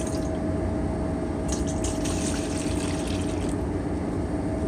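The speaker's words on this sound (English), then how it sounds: "First thing we're going to do is 3 cups of beef broth." Beef broth poured into a pot for Swiss steak, a steady liquid rush that runs continuously at a moderate level from start to finish.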